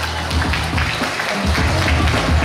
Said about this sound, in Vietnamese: nên cho một tràng vỗ tay một lần nữa cho gia đình bên nhà trai.